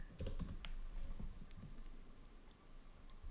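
Keys clatter on a computer keyboard as an npm install command for the Lodash library is typed, a quick burst of close, light clicks followed by a few scattered taps in a quiet room.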